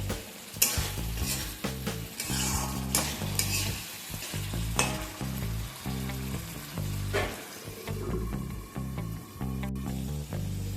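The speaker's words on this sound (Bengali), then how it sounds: "তাই এই সময় আলুগুলোকে দিয়ে চাপা দিয়ে মশলার সাথে কষতে থাকবে।" Fried potatoes cook down with spice masala in a pan for a banana-flower curry, a continuous close sizzle broken by repeated stirring scrapes and a low background hum.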